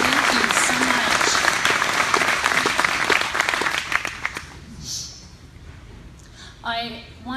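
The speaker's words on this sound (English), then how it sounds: "Please give them a round of applause" Audience applause for a committee at a community meeting and memorial in John Day, Oregon: dense, steady clapping from a room full of people that fades after about four seconds, leaving quieter room sound and a voice starting to speak.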